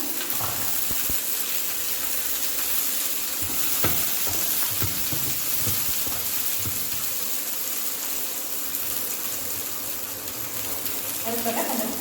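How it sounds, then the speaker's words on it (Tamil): Small onions fry in a pan for a thick chutney, giving a loud, continuous sizzle with scattered crackles and utensil taps throughout. "அடுத்ததாக வெங்காயம் சேர்த்துக்கலாம்."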